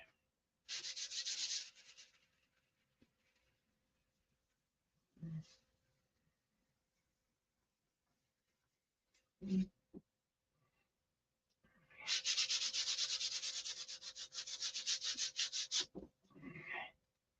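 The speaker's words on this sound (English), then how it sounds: "So very light sanding" Light sandpaper strokes over Japanese tissue make a soft, hissing rub in two sustained bursts, a short one early and a longer one near the end, separated by quiet pauses broken by a few small handling knocks.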